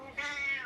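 A spotted Savannah cat lets out a single short, close meow, clear and alone.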